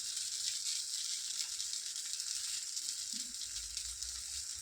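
Faint, steady sizzling of a wheat dosa with tomato frying on a hot pan. It is a continuous soft hiss with no talk.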